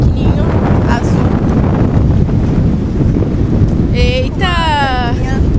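Strong wind buffets the microphone during a ride in an open beach buggy, a constant loud roaring rumble throughout, with a woman's brief exclamation near the end.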